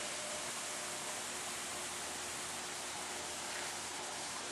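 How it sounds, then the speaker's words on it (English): A massive waterfall near a rural property gives a steady, dense rushing roar with no breaks or voices. "Now you can get an idea of the sound of this massive waterfall."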